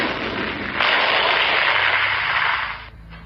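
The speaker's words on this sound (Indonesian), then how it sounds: "meledak seketika." A sound-effect explosion in an audio story, where a demon beast blows up in an instant. It is a loud, sustained roaring burst that swells after a short lead-in, holds for about two seconds, then cuts off abruptly.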